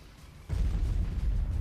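Explosion in the web game Bomb Transport 3D: a sudden low, rumbling blast bursts in after a quiet moment and keeps roaring steadily, loud and bassy, with no voices over it.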